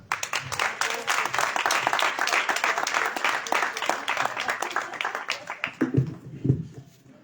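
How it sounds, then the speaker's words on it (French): Audience applause for singers, with quick crowded claps that slowly thin out, followed at the end by a few voices and low rustling. "On peut les applaudir."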